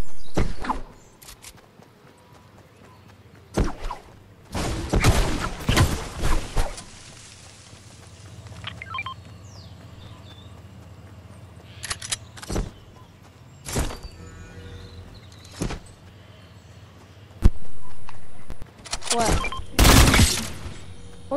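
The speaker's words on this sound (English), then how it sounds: "Someone's shooting!" Sharp gunshot bursts from a shooter in a video game, several loud cracks in separate clusters spread across the scene, with quieter footsteps and thuds between them and voices talking over parts of it.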